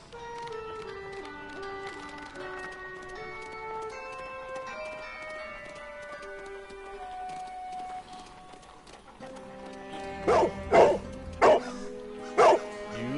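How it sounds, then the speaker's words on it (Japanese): In a Sherlock Holmes video game, a dog barks in a few sharp, loud yaps near the end, following a long stretch of gentle background game music. "ワンワンしてるよ。"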